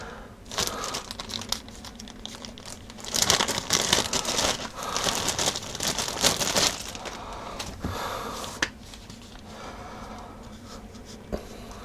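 Old ear pads peeled off Denon AH-D7100 headphones give loud, close crinkling and tearing scratches in irregular bursts, busiest in the middle, then trailing off into softer rustles.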